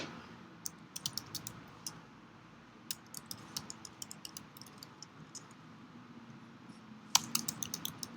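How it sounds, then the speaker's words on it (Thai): Someone types on a computer keyboard in a quiet room, with sparse, irregular clicks and short bursts of keystrokes that turn denser toward the end. "ทีนี้เราก็พิมพ์รายละเอียดเข้าไปครับ"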